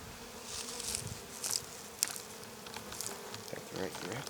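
Honey bees drone in a steady, close buzz around an open spring beehive, individual insects swelling louder as they pass near, with faint handling noises underneath.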